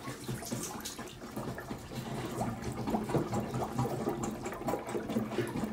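Plunger working a clogged toilet, with water sloshing and splashing in repeated up-and-down strokes, close and moderately loud, with no talking.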